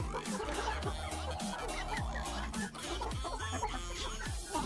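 A Light Brahma rooster and hen cluck close by in a backyard coop, repeated short throaty clucks overlapping one another against a busy background.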